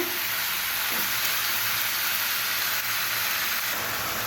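Green chilies and a few whole garlic cloves sizzle in hot oil in a pan with bitter gourd and turmeric, a loud, steady, hissing crackle that runs unbroken from start to finish.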